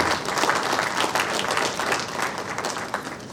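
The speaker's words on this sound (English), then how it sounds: "I will give the Vice Chancellor another round of applause." Sustained applause from a conference audience at an opening ceremony, honouring the Vice Chancellor; dense, steady clapping fills the room throughout and fades slightly toward the end.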